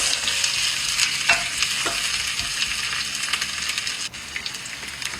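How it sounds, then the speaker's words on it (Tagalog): Onions sautéing in a pan, a steady loud sizzle with repeated scrapes of a slotted ladle as they are stirred, close and continuous. "Haluin na haluin ang sibuyas"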